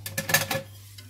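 A utensil scrapes around the bottom of a saucepan of lemon curd cream made from egg and lemon, giving a quick run of close metallic scrapes and clinks that fades after about half a second.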